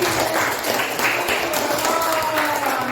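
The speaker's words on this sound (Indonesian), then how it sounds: "kasih tepuk tangan untuk Salihin." A classroom full of people clapping steadily for a student's correct answer, a dense wash of applause that holds at an even level throughout.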